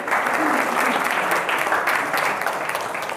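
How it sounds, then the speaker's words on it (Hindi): Sustained crowd clapping for a contestant at a school Constitution Day quiz competition, thick and even with no pauses, close and fairly loud throughout. "24, ताली बजा दो इनके लिए।"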